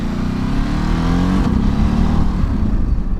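A Ducati Desert X motorcycle engine revs in a false neutral while being ridden, a loud, close, rough mechanical drone with a rising and falling pitch through the short stretch.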